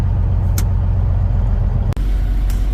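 A race car engine idles with a loud, low, steady rumble close by, then briefly drops out and catches again as it bogs down.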